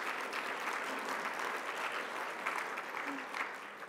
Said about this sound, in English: let's clap for Dr. Mayo.